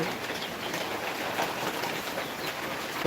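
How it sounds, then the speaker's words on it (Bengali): Heavy rain pours steadily at a poultry site in Manikganj, a dense, even hiss of drops on surfaces that holds constant throughout without any voices. "আমাদের এই জায়গাতে প্রচুর পরিমাণে বৃষ্টি হচ্ছে"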